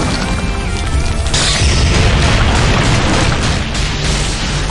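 Endurance Cannon attack blast from the video game Outerplane: a loud, sustained booming explosion that rumbles and roars for several seconds without letting up.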